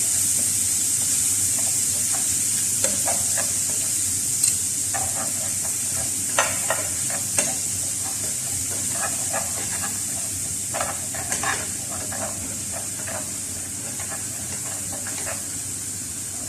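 Ground onion frying in Arab butter in a pot, giving a loud, continuous sizzle and steam hiss up close, broken by repeated scraping stirs and occasional pops.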